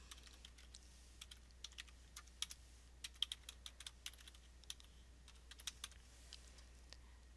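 Light, scattered keystrokes on a computer keyboard as an email address is entered, quiet clicks in uneven bursts over a low steady hum.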